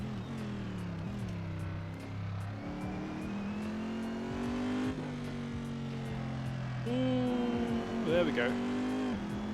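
Race car engine in Assetto Corsa on the Suzuka circuit, revving loudly and continuously with rising and falling pitch through gear changes and a brief tire squeal near the end, with someone talking briefly over it.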